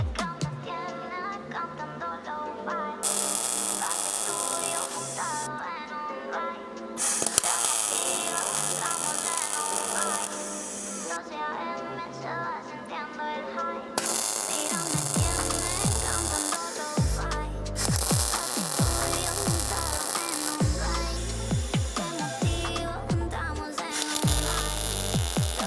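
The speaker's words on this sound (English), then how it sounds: "I need to weld those capture nuts on the back so that I can bolt it in place properly" Capture nuts are welded onto a transmission cooler bracket for a third-generation Toyota 4Runner, a harsh electric buzz in several long bursts broken by short pauses.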